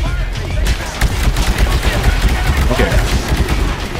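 Gunfire in a Titanfall multiplayer match, dense shots and bursts running the whole time at steady loudness, with a brief spoken word from a player over the shooting.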